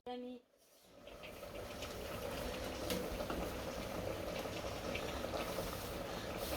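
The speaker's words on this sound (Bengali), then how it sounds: "ডিম আর আলুটা সিদ্ধ দিয়ে দিছি" Eggs and potatoes boil in a pot, a steady bubbling that swells after a short tone at the start and then holds at an even, moderate level.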